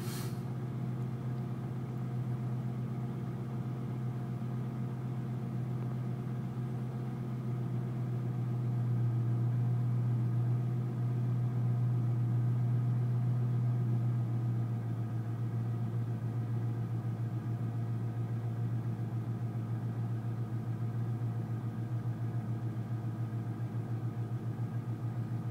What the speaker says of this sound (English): I don't know how the video sounds, but it's a really nice sounding car.